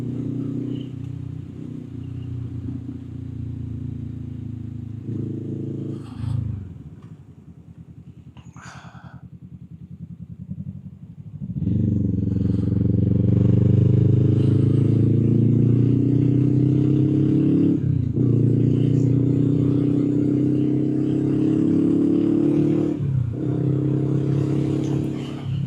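A motorbike rides a twisting switchback bend on a rural coastal road strewn with loose chippings. The engine drones steadily, eases off briefly, then swells louder as it accelerates, with wind buffeting throughout.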